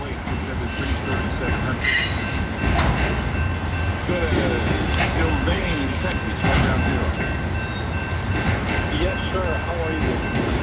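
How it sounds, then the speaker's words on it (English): A freight train carrying pipe rumbles past up close, wheels clattering and squealing in bursts over a constant heavy roar. "The pipe train is moving west"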